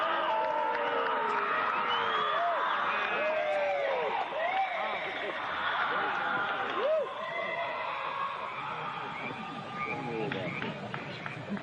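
A large crowd of about 2000 club members in the stands at a ritual sacrifice keeps up a dense, continuous roar of cries, shouts and whoops, with rising wails over a steady wash of voices.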